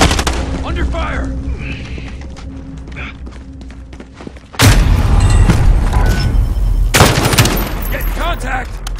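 Gunfire and explosions in Call of Duty Modern Warfare Warzone, Plunder trios mode: quieter game sounds at first, then a sudden loud burst of booming shots and blasts that stays dense and close to the end, with voices mixed in.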